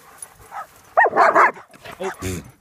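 Shepherd dogs on a morning walk let out a few short, close barks and yips, interleaved with a person talking.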